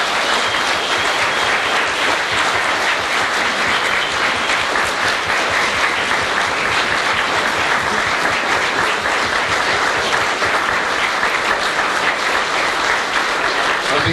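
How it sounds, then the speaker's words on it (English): A big round of applause for Tom DeWeese at a Northwest Business Club meeting, with dense, loud, sustained clapping from a full room that holds steady for the whole stretch. "How about a big round of applause for Tom DeWeese?"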